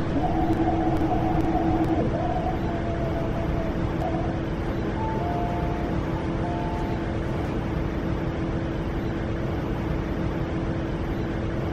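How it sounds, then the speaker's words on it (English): A train pulls into a station platform in the Hmmsim 2 simulator on Hong Kong's MTR East Rail line, giving a steady low rumble with brief tonal hums, and faint bell-like ticks near the start. "A nine-car train to Hong Kong is arriving."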